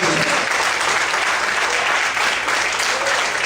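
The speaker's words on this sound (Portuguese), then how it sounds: "Vamos aplaudir bem forte para a ao Senhor Jesus." Loud, sustained applause from a church congregation, a thick continuous roar of clapping filling the hall steadily throughout, with no speech over it.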